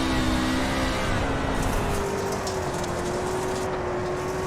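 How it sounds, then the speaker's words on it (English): A dirt-track race truck engine roars steadily at the All American Pro Truck Series race at Dalton, a constant loud drone with a rising and falling pitch and a rain-like hiss of track noise, with no talk. "Listen to the throttle there."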